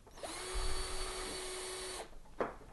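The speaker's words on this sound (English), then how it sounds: "Drill X self-tapping screws." A drill driving self-tapping screws into sheet metal whines at a steady high pitch for about two seconds, then stops, followed by a brief clack.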